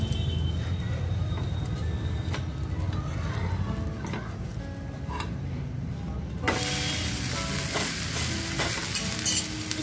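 Dosa cooking on a tawa as a little oil goes in around its edge, giving a steady close frying sizzle that turns suddenly louder and brighter partway through.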